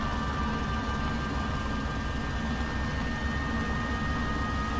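Aircraft engine spooling up in the X-Plane 12 flight simulator game, a dense, steady roar with a faint high whine, loud and continuous with no talking.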